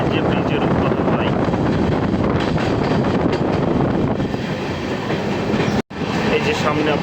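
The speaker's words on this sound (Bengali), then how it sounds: "আমরা এখন প্রবেশ করছি নসিপুর রেলওয়ে ব্রিজ, সেই ঐতিহাসিক নসিপুর রেলওয়ে ব্রিজ" Train running onto the historic Nasipur railway bridge on the Sairang Kolkata Express route, a loud, continuous rumble and clatter of wheels with wind buffeting, briefly cut by a sudden drop in sound before the roar resumes; a voice speaks over it.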